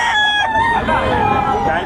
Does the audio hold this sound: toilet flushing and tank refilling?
no